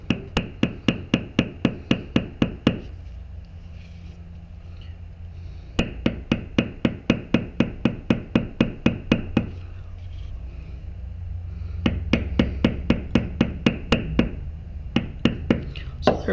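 An 18-ounce tapered-head maul strikes a leather tooling stamp on Hermann Oak leather in three bursts of rapid, evenly spaced knocks, close and sharp, separated by short quiet pauses.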